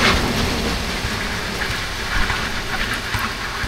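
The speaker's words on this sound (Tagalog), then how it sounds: "Rastig na ulan." Heavy rain from a typhoon pours down in a dense, steady roar, loud and unbroken for the whole stretch, with no voices.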